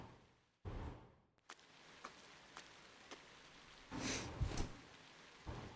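Rain falls steadily in a video game scene from Trails of Cold Steel, soft and hissing, with a few louder gusts and distant rumbles breaking through the quiet patter.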